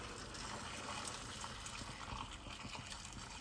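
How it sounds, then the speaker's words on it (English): Freshly boiled kettle water pours into a pan of new potatoes, a soft continuous splashing gush that fills the whole moment without a break. "So I literally just boiled the kettle. Yeah. We're going to add some water."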